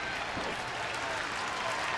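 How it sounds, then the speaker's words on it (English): Baseball crowd at a stadium during a Dodgers at Rangers game in June 2009, producing a broad, distant roar of cheering that holds evenly throughout, with faint announcer talk beneath it. "Some of the fans are cheering, thinking that Chris Davis made that play and got him out"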